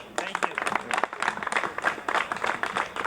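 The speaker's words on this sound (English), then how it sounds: "Give him a round of applause, please." Rally crowd applauding a senator at a Black and Brown Unity Rally: a moderate patter of clapping rises and holds for about three seconds, with voices talking and calling over it.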